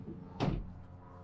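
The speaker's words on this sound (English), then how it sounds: "Get this door open." The sliding cargo door of a 2021 Mercedes-Benz Sprinter 2500 high-roof van opens in one quick, close, heavy rolling thunk, with quiet surroundings before and after.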